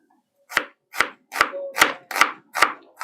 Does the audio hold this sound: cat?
no